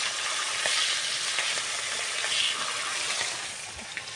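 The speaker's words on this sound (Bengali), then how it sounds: "মাছগুলো ভালো করে ভেজে নিতে হবে, ভালো করে ভেজে নিলে তবেই ভালো লাগে" Fish pieces, tails included, fry in oil in a pan, giving a loud, continuous close sizzle with scattered crackles and stirring, easing slightly toward the end.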